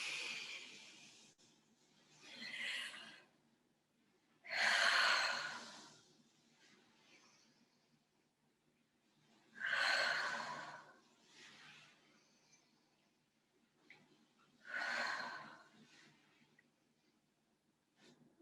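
Slow exhalations during a yoga stretching exercise, four long breaths out at roughly five-second intervals, close and fairly soft over a low steady hum in a quiet room.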